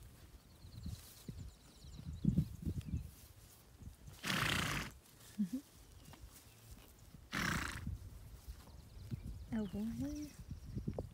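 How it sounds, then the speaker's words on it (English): Horses, including a resting foal, gather around at close range, giving several whinnies and neighs among scattered hoof clops while people talk over them throughout. "I just realized we're surrounded by horses."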